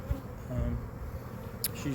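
A honeybee in a hive during a fall colony split makes a steady, close insect buzz with low rumbling handling noise and a brief sharp tap near the end.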